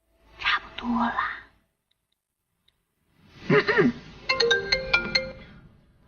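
A mobile phone rings out on a call, a bright electronic ringtone with quick chiming notes, heard close after a pause and a brief stretch of hushed talk.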